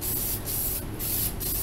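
Single stage automotive paint hisses from a spray can onto a car bumper in short, loud bursts with brief gaps between them and no talking.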